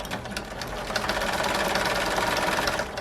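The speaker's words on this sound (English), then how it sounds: "I'm just going to sew one more line of stitching a little bit farther in" A sewing machine runs steadily for about three seconds, stitching another line through curtain fabric, with a continuous close mechanical whir and no pauses.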